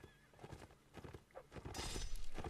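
A horse in the Napoleonic Wars video game gives a neigh amid clip-clopping hooves and battle clatter during a line battle, with a louder burst of noise near the end.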